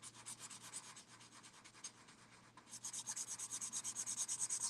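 Worn-out Ohuhu art marker, near its end, rubbing on paper while coloring, a faint close scratchy scrubbing that turns into quick rhythmic back-and-forth strokes, steady and alone without talk.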